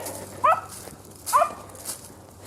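A dog gives two short, sharp barks about a second apart, followed by a softer yip, fairly close against a quiet background.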